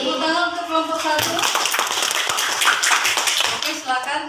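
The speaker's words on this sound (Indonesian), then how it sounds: "Tepuk tangan untuk kelompok 1" Classroom applause for a group of fifth-grade students after their presentation: a burst of many children clapping, fairly loud and continuous, with a teacher's voice speaking before and after it.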